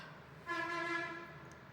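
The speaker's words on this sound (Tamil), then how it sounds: "ஹாரன் சவுண்டு கேட்குது" A single sustained horn blast, tonal and steady for about a second, sounding at a moderate distance over quiet background noise.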